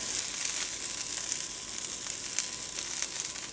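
A pan of onions with raw carrot, green beans and snow peas sizzles steadily and loudly up close, a dense continuous frying hiss with faint occasional crackles and no talking.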